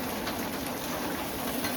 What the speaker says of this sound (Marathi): आणि बाहेर पाऊस बघा वन साईड पडता एकदम